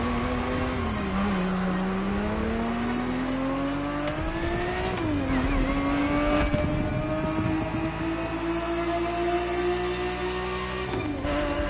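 A Ferrari 365 GTB4 engine in The Crew Motorfest racing game drones steadily with rising and falling revs through gear changes, its tone climbing in pitch over about twelve seconds, alone without talk.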